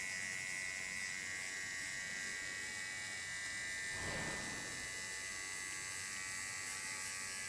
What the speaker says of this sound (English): You see that I hold my clipper upside down, so this gives the sharpest effect, because then the blade goes up to the skin. It takes away the hairs.